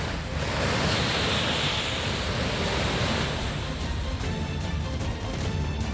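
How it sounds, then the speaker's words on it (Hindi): Fast-flowing floodwater surges around a temple in Kerala during heavy flooding, a loud, continuous broadband roar of rushing water with no breaks and no voices. "पानी का बहाव इतना तेज कि देखने में यही प्रतीत हो रहा है कि किसी भी वक्त मंदिर को भी बहा ले जाएगा"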